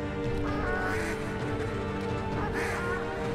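A duck quacks in the co-op video game Struggling, with two honking calls about a second and a half apart over a steady bed of game noise.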